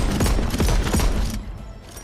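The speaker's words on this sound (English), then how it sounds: "Man, I could listen to that gunfire all day." A rapid burst of gunfire from a revolver-style weapon in the Paladins video game, loud and close, lasting about a second and a half before cutting off.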